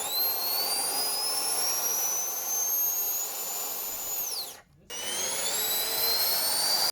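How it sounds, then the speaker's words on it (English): A 3D-printed RC Harrier VTOL model lifts off with a loud, steady high-pitched fan roar and whine that rises in pitch, cuts out abruptly for a split second, then resumes at full power; no talking. "This Harrier is much more powerful and also more lightweight, so it was easy for him to lift off."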